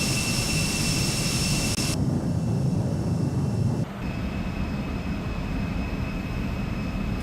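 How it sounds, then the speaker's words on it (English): A simulated Embraer E-Jet makes a loud, steady jet-engine roar on a low flyby in X-Plane 12, with a constant turbine whine running throughout and the tone shifting abruptly twice as it passes. "Listen to those engine sounds, folks."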